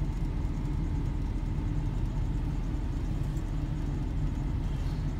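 Junkyard truck driven around after being fixed, its engine a steady low rumble running continuously at a constant level with no talk.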